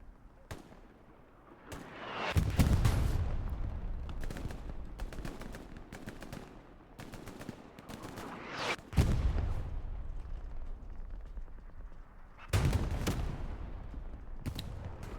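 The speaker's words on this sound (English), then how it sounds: "Beautiful rocket there by Hunt now." Rocket fire and explosions in the multiplayer war game Hell Let Loose during a 49 vs 49 battle at Stalingrad, several heavy booming blasts with rolling rumble tails between sharp, rapid gunfire crackles.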